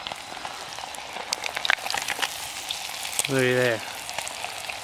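Bluegill pieces frying in a pan on a Solo Stove outdoors, a crackling, spattering sizzle close by, with a brief spoken remark partway through.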